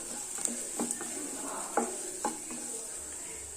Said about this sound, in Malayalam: ഇതൊന്ന് വഴറ്റി കൊടുക്കണം.